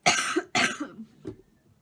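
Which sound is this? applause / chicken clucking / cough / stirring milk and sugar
cough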